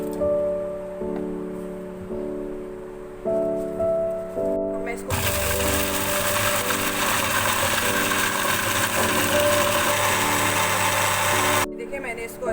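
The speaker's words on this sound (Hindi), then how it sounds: "अब मैं इसको पीस लूँगी ग्राइंडर में" A kitchen grinder whirs loudly through a grinding jar of roasted spices for chicken masala roast, a steady, dense motor roar that starts abruptly after some brief handling and background music, runs for several seconds, then cuts off.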